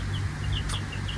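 Cream Legbar chickens cluck and chirp softly in short, scattered calls over a steady low hum, with a few brief, moderately close vocalizations through the moment.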